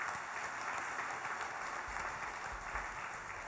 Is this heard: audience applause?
yes